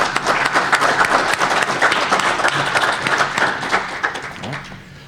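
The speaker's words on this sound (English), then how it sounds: "maybe just give one more round of applause to everybody" A small event audience gives a round of applause for speakers and attendees, loose uneven clapping from a modest crowd that stays fairly close and tapers off toward the end.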